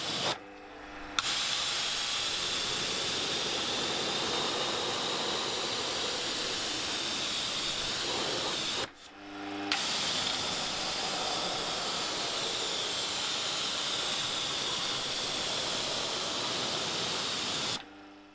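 Steady, loud spray of water rinsing residue from a Mazda engine bay, a broad hiss running continuously with two brief cut-offs between passes.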